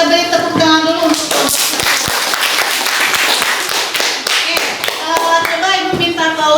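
A class of children claps hands together, loud and close, with crisp overlapping claps throughout and children's voices mixed in.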